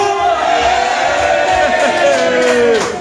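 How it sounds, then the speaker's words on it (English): Sunderland football supporters let out a loud, sustained group cheer, a bright roar of many voices holding a shout together for about three seconds before tailing off. "give us a big cheer now"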